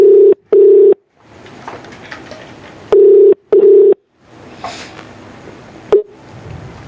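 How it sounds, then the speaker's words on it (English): A telephone ringback tone heard on an outgoing call during a podcast, sounding in paired steady beeps that repeat twice, loud and clear over quiet background noise. "Yeah, it's ringing."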